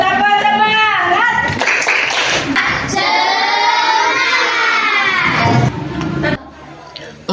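Primary school pupils in a classroom do a rhythmic 'tepuk semangat' clapping chant. Bursts of group claps mix with loud, chanting children's voices, close and lively, then fade near the end.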